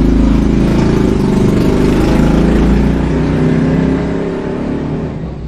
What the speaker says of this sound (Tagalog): At marinig nyo pa rin ang mga dumadaan na mga tricycle, scooter